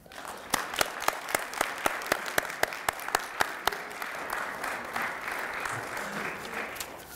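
Audience applause at a medical lecture on sickle cell stem cell gene therapy, a dense burst of many hands clapping together that starts sharply and tapers off over several seconds, with no talking.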